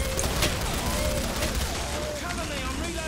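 Gunshots in the Killing Floor video game come as scattered sharp cracks over dense, continuous combat noise, loud and fairly close, with talk mixed underneath.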